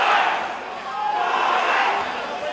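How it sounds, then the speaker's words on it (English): Loud arena crowd roaring and shouting at a mixed martial arts fighting championship event, a dense sustained din of many voices that swells and stays strong throughout. "Loud crowd for both these fighters tonight."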